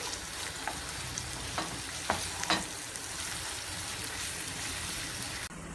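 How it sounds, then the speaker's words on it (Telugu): A spoonful of ginger garlic paste fries in a pan with a continuous bright sizzle and a few light spoon taps, heard alone and close until it cuts off abruptly at the end. "దీనిలో ఒక స్పూను అల్లం వెల్లుల్లి ముద్ద వేసి ఇంకొక 5 నిమిషాలు వేయించుకుందామండి."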